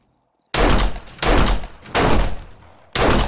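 Four heavy gunshots ring out in the zombie survival game 7 Days to Die, Ravenhearst mod, during a horde night, each a loud booming blast with a trailing echo, spaced irregularly after a moment of silence.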